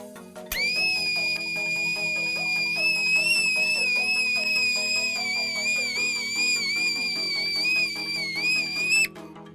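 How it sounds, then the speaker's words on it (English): Liquid nitrogen boiling in a kettle makes the lid whistle with a high, sustained, wavering tone for several seconds, cutting off abruptly at the end. "Did you guys hear that? It made a whistling sound."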